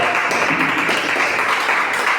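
A church congregation breaks into steady, dense applause, a continuous even wash of clapping with no break across the whole moment.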